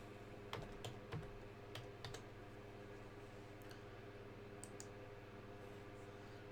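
Keys on a computer keyboard clatter in short quick bursts of typing over a steady low electrical hum, then trail off into scattered faint clicks.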